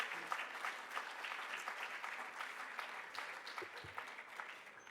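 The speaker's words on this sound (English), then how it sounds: "Please, let's give an applause, clapping of hands for the presenters." Steady applause from a conference audience clapping for the presenters, dense and continuous for the whole stretch at moderate distance, with no voices over it.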